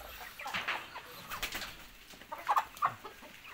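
A rooster on a home yard, a cocky bird looking for a rival, gives a few short clucking calls that grow louder toward the end, with faint background bird sounds and no talking.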